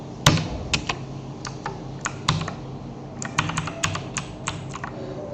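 Quick keystrokes on a computer keyboard tap out in irregular bursts, crisp clicks close to the mic over a quiet background hum, with no voices.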